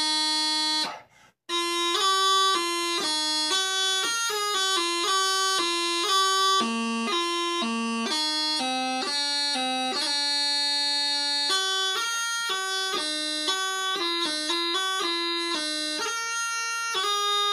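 Bagpipe playing the hymn tune Coronation (All Hail the Power) alone, a loud steady drone under a bright chanter melody, stepping through a long continuous phrase after a brief gap near the start.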